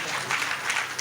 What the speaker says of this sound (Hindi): उनके लिए एक बार तालियां बजा दो